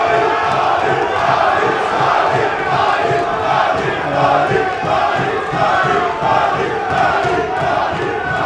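Boxing crowd at a live fight night chants and roars for their fighter, a loud, dense, continuous wall of voices filling the arena with rhythmic surges.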